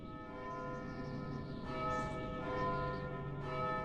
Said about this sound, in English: As the bell tolls once again.